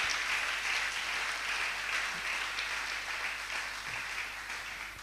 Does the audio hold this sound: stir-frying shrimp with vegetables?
no